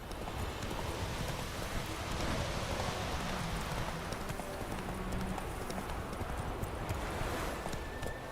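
Horse hooves clatter in a fast, continuous clip-clop at a gallop in the Witcher 3 video game, moderately close, with a constant ambient wash of game sound underneath.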